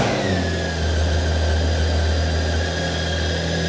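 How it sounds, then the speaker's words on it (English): A 2022 BMW K1600GT motorcycle engine runs steadily nearby with a low, even hum and a slight rise in revs, without any talk. "Turn on the engine first."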